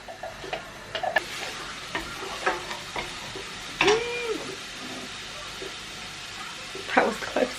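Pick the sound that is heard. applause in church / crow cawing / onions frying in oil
onions frying in oil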